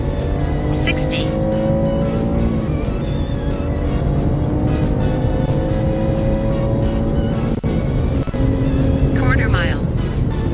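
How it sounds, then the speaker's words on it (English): A cheap used Tesla launches from a standstill and accelerates on a quarter-mile run, its electric motor whine rising steadily under tire and road noise while people talk over it. "Much softer launch than I was expecting with this car."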